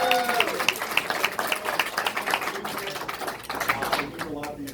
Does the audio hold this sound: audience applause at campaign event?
yes